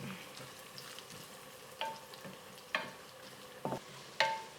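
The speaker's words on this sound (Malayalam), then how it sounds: "ബീഫ് ഫ്രൈഡ് തേങ്ങാക്കൊത്ത് വറുത്ത് എടുക്കണം" Coconut pieces fry in hot oil with a steady sizzle, with several sharp metallic clinks of a spoon stirring the pan at intervals.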